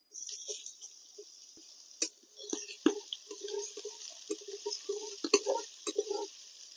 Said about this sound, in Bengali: এবারে আগে থেকে কুচিয়ে রাখা পেঁয়াজ দিয়ে দিচ্ছি